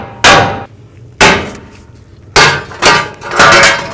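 Four or five sharp, loud metallic hammer blows, irregularly spaced, strike the side of a front wheel hub on a 2010-16 Buick LaCrosse, each with a ringing decay.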